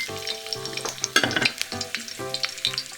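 Garlic slices drop into hot oil over low heat and fry with a close, steady sizzle full of crisp crackles and pops, with brief surges as the pieces settle.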